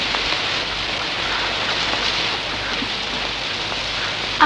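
Steady rain pours down in an outdoor scene from a Persian feature film, a dense, even hiss of falling drops that stays loud and constant with no voices.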